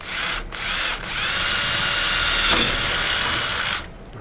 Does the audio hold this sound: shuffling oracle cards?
no